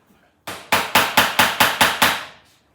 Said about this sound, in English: put a couple of nails in at each side